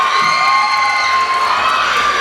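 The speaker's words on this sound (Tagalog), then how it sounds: "sabay-sabay palakpakan at hiyawan" A loud, dense crowd at a beauty pageant's national costume segment cheering, clapping and shouting continuously, with high-pitched voices and whoops, close and sustained throughout.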